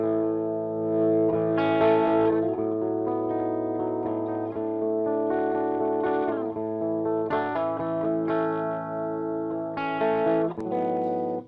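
An electric guitar plays chords and melodic phrases through a Robert Burke Music Meddle amp, guitar volume knob turned down to 1-2, at a cleaned-up, lower volume, with a light shimmering effect and gentle echo.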